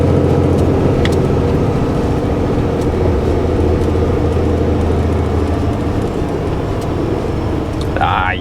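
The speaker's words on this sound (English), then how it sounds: "Big truck coming." A big truck's engine drones steadily nearby on a narrow road during scrap collection runs, a continuous loud rumble that holds throughout before a brief squeal near the end as it stops.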